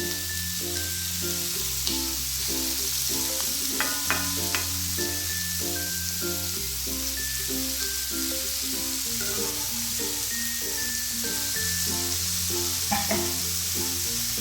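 Prawns fry in hot oil for a prawn biryani, giving a steady, close sizzle throughout with occasional light pops, under a layer of continuous background music.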